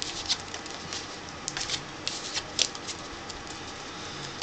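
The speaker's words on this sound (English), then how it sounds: "What you do is you shuffle the cards up a little bit." Playing cards shuffled by hand during a beginner magic trick, heard as light, irregular riffling and patting clicks, fairly quiet and close with no voice over them.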